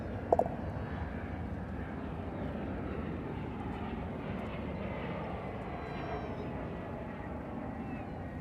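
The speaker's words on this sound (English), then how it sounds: "Yes, another touchdown right here on Runway DFW." A jet airliner landing at Dallas/Fort Worth Airport, a broad, steady engine roar that holds throughout from some distance, with a brief click near the start.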